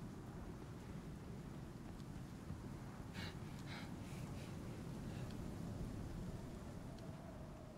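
A storm in the survival game Icarus rumbles as a low, constant rush of wind and rain, with a few brief higher-pitched gusts midway, faint overall and with no speech.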